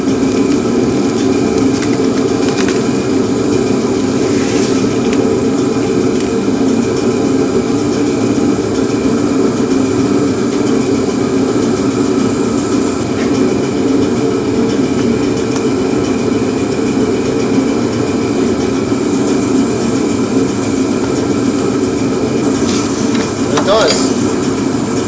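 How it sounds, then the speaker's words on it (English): A heater runs loudly in a cold workshop, producing a constant, dense roar that fills the whole stretch without letup, with a voice talking faintly underneath. "So I'm going to crank up the heater. Sorry if it's too loud."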